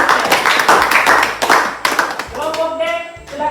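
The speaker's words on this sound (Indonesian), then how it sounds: "tepuk tangan untuk kelompok C" A seventh-grade class claps together for a student group in a classroom, brisk sharp claps for about two seconds before a voice starts speaking.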